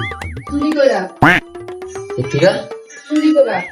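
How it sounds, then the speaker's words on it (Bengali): Several short nasal duck quacks mixed in with talking voices and a brief whooshing sound effect, loud and close. "বাহ এত বড় হাঁস"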